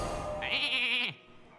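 A cartoonish sheep bleat from the Polymorph spell in the Hearthstone card game, one wavering, loud call lasting about half a second, clear and alone before cutting off abruptly.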